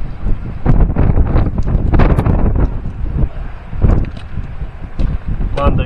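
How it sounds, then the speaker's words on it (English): Strong gusts of wind buffet the microphone in loud, irregular bursts, roaring and dropping repeatedly, with no other sounds standing out, during a DJI Mini 2 SE drone flight at St Ninian's Isle, Scotland. "It's pretty windy."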